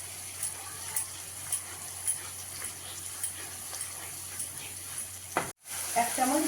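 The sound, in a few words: masala paste frying slowly on low gas for paneer posto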